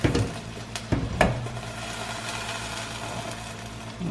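Steady hissing and sizzling with faint rumbling, a few soft clicks and pops early on, quiet and continuous, from water at a rolling boil on a gas burner while brewing beer.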